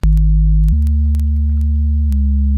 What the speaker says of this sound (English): for the actual sub bass, I created the sine wave in Serum.